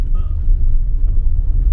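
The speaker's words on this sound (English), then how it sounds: "Oh, my Lord, a car." A car drives along a road near a campsite on the Mogollon Rim, giving a steady, fairly close low rumble that fills the whole moment with no clear peak or fade.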